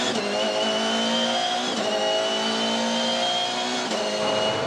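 V8 Supercars race cars in the 2015 Sydney 500 brake hard for a left-hand corner, with a loud, continuous engine howl near the track broken by quick downshift blips.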